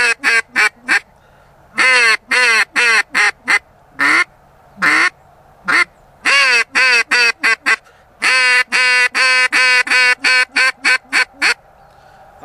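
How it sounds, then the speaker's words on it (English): A Zink duck call is blown close and loud in repeated rapid series of nasal quacks, bursts of three to eight notes separated by short silent gaps. "I think it's a pretty good duck call."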